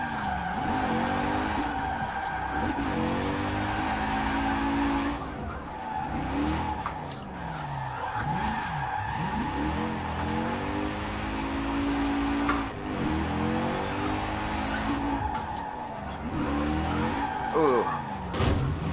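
Mercedes 280 SL drifting in Forza Horizon 4, its engine rising and falling through repeated slides as the tires squeal in long wavering bursts, loud and close over a steady game backdrop.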